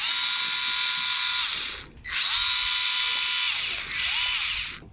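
Power drill whirring as it backs a screw out of a Ryobi RLT26CDSN trimmer carburetor, steady high-pitched spinning in three close bursts with short pauses as the motor slows between them.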